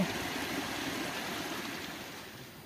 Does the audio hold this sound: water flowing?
yes